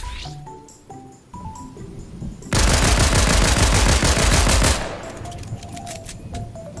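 Fortnite pistol gunfire with a faster-reload mod: sharp single shots at first, then a loud, dense burst of rapid shots lasting a couple of seconds, followed by a few more scattered shots and game tones.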